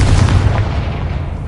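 A Confringo explosive spell goes off in Hogwarts Legacy as a loud, continuous booming blast with a heavy low rumble that holds steady for its short length.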